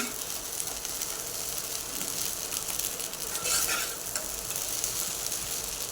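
Sabudana khichdi stirred and turned over with a spoon in a pan over low heat, a steady close scraping and rustling over a continuous soft sizzle, with no talking.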